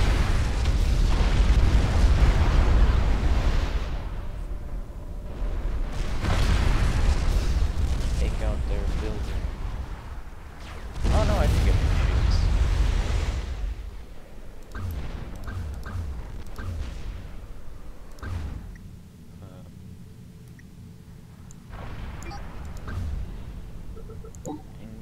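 Artillery fire and explosions from the strategy game Supreme Commander 2, a dense barrage of booming blasts and rumbling bursts, loud and continuous in the first half, then thinning into scattered, quieter impacts with a voice talking over it.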